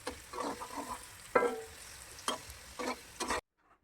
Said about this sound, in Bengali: আর এখন এখানে ভাজবো কাজু আর কিশমিশ